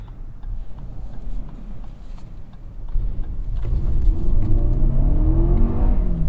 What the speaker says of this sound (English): it's just a real sounding car now